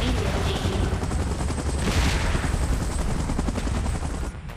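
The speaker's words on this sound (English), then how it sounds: "Evacuation measures. Chopper in position." A helicopter in PUBG Mobile's Last Stand mode, its rotor beating as a dense, continuous chop mixed with rapid bursts of gunfire, loud and busy for the whole stretch before easing slightly at the end.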